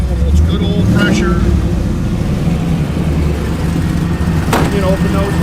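A 2000 Pontiac Trans Am with 50,000 original miles idling with its electric exhaust cutouts open, a loud, deep, steady engine rumble with a low throb, close by.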